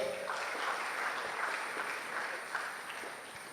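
Quiet, steady applause from an audience at an induction seminar opening ceremony as a speaker leaves the stage, somewhat distant and continuous.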